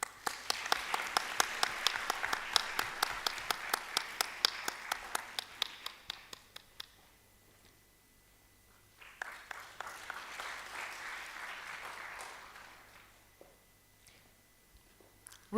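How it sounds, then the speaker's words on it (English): An audience at a national cancer summit claps in a burst that fades out, goes quiet, then swells again in a second round. Individual sharp hand claps stand out near the front of the room. "Please, just clap."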